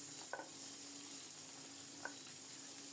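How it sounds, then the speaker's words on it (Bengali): Steady sizzle of fish frying in a pan, a dense hiss with a couple of small pops and crackles, close by and even throughout. "মাছ এভাবে থাক, আরও কিছুক্ষণ ভাজা হোক"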